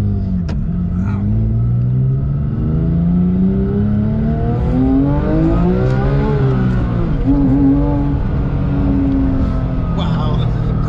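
A 2010 Porsche 911 GT3 997.2 engine revs loudly and up close, its pitch climbing and falling through smooth sweeps and then holding a high, sustained wail, with voices talking over it.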